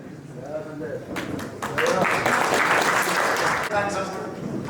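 An audience in a college hall applauds alumni from the 1974 batch as they arrive, with a dense, steady burst of clapping rising after a quieter start, with voices talking over it.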